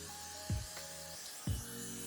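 Two short sprays of hair product about a second apart, quick hissing bursts close by over a faint steady background hum.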